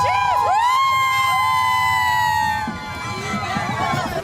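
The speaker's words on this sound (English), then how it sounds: "crowds packing downtown San Antonio today for Fiesta, the party that only San Antonio can throw like this" A crowd cheering and whooping at the Fiesta parade in downtown San Antonio, with a loud sustained shout rising over the din before the crowd noise carries on underneath.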